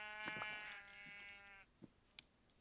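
A Minecraft sheep gives a single nasal, quavering bleat up close in the video game, followed by a couple of faint soft clicks from gameplay.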